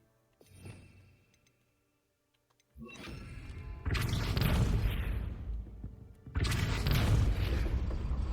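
A spell cast in the game Hogwarts Legacy lands as a heavy booming blast, followed by a sustained roaring burst and a second loud surge near the end, after a quiet lull with a faint thump.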